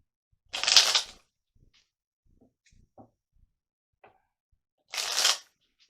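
Two quick bursts of tarot-style healing cards being riffled and shuffled, one near the start and one near the end, with faint small handling taps in the quiet gap between.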